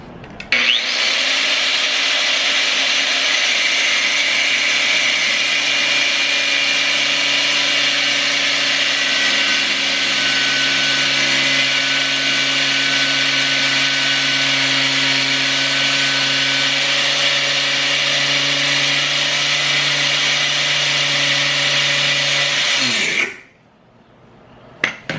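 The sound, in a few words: angle grinder cutting stuck outer tie rods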